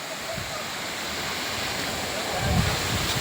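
Kiray Falls waterfall, a steady broadband rush of falling water nearby, swelling slightly louder toward the end, with brief voices in the background.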